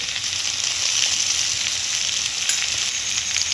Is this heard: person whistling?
no